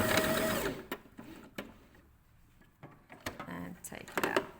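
A sewing machine runs a short burst at the start while stitching a fabric pocket, then gives a few quieter clicks and knocks as the stitching stops and the work is handled, with a voice speaking briefly over part of it.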